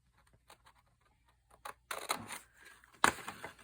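Paper being cut for a handmade vintage journal, a series of soft scattered snips and scrapes that grow into louder crisp rustling and cutting strokes near the end, close and quiet.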